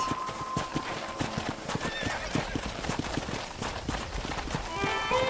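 Horses in a corral in the Red Dead Redemption video game, with steady clip-clopping hooves and repeated whinnies and neighs over a busy outdoor background, continuous and fairly close.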